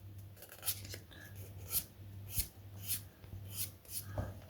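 A small wooden music box peg is sanded by hand, with soft, faint rasping strokes in an irregular rhythm, close up and quiet, with no speech.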